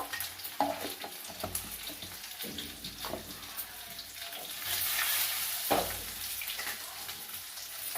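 Chamagadda (taro root) curry with turmeric being stirred in a pan: a soft, steady sizzle with scraping strokes of a spoon at irregular intervals, fairly quiet throughout.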